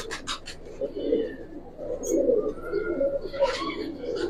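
Female pigeons coo repeatedly at close range among a pigeon collection, soft throaty calls overlapping with faint chirps and a person talking nearby.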